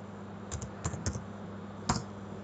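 Keys clacking on a computer keyboard while a command is typed into a Raspbian virtual machine: a few quick clustered keystrokes, then one final firmer press, close and clear over a quiet room.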